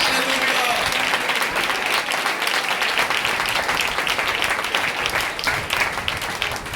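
A gospel meeting congregation claps together for Jesus in dense, sustained applause that fills the whole stretch, with crowd voices mingling underneath.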